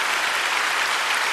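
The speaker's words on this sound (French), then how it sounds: "applaudissons pour nous-mêmes" A church congregation applauds together at a Sungrak Church service, a dense, steady wash of clapping filling the whole moment without a break.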